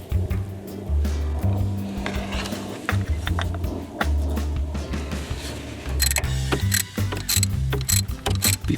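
A hand ratchet tightens the bolts on an ATV's oil cover during an oil change, a close, steady run of rapid clicking strokes with brief pauses between bursts.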